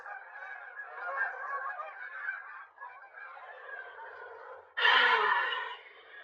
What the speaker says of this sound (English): the geese.